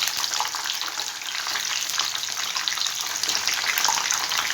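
Brinjal bajji deep frying in a pan of hot oil, a loud, dense, continuous bubbling hiss close by, steady from start to finish with no voices.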